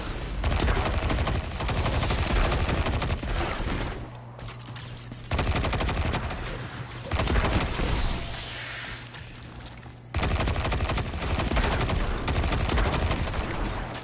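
Rapid automatic gunfire in the video game Destiny, loud sustained bursts of fire broken by brief pauses around the fourth and tenth seconds, with a low tonal hum under the quieter gaps.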